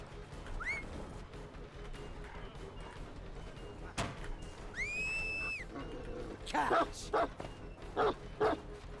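The Houndmaster's dog in the Dead by Daylight video game gives short barks and yips amid game effects, with a few rising whistle-like tones and scattered sharp clicks, all fairly quiet and with no speech.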